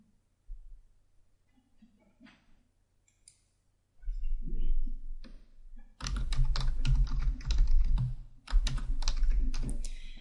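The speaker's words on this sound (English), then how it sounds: "Now you can type in your back matter text." Dense, fast clicking of a computer keyboard as back matter text is typed, loud and close in long runs after a quieter stretch of scattered taps and low rumbles.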